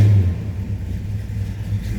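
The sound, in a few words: 1965 Pontiac GTO 389 engine starting and revving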